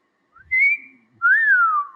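A person whistles in imitation of Batman, a short rising tone and then a longer falling wolf-whistle-like sweep, close and clear with no talking.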